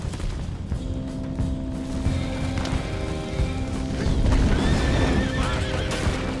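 Horses whinny and neigh over clattering hooves and a dense, noisy action backdrop with occasional crashes in the video game Red Dead Redemption 2.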